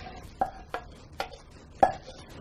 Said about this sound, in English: And I just need to stir all this up until it's evenly combined